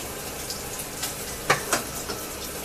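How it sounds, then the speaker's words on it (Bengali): Tilapia fish frying in hot oil, a soft, fairly quiet sizzle with a few sharp pops and crackles scattered through it. "তেলাপিয়া মাছগুলো আমি ভেজে নিচ্ছি"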